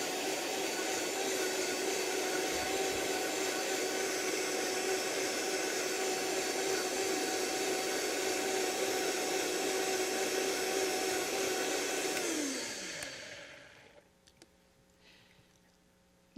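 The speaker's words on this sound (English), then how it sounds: "This is a very powerful commercial blender." A powerful commercial blender whirs steadily at high speed while blending a cooled yogurt sauce, a loud sustained motor drone that winds down and stops near the end.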